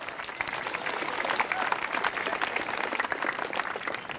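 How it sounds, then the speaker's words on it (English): A crowd applauds steadily at a surfing event's awards, a dense wash of clapping hands that holds at an even level throughout. "So a big round of applause for Philippa as well."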